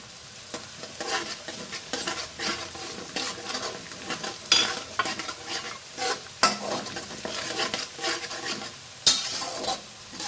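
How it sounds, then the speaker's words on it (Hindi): Steady sizzling of whole spices and onions frying in oil in a pan, with frequent stirring scrapes and occasional clinks of a utensil against cookware, no voices. "अब मैं इसमें जो मेरे पास साबुत मसाला था वो शामिल करूंगी।"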